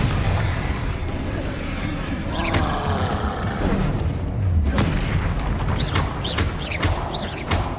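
Spell blasts boom and roar in Hogwarts Legacy combat, with loud, dense fire and explosion bursts over a constant rumbling background as a voice calls out spell names.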